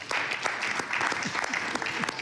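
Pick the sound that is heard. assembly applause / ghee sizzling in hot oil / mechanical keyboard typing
assembly applause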